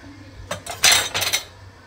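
A metal pot is handled in a home kitchen while chicken is reheated, giving a short burst of clanks and clinks that rises to a few louder knocks and then fades, with no talk.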